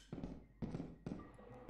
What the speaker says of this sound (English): There's a homemade flashbang.